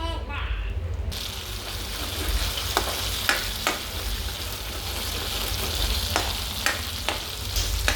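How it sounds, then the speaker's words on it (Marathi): Watermelon seed and cashew paste fries in hot oil with a steady busy sizzle, broken by occasional sharp scrapes and clinks of stirring, fairly close and moderately loud. "या मिश्रणाला तेल सुटूपर्यंत आपल्याला सुंदर असं फ्राय करून घ्यायचं आहे."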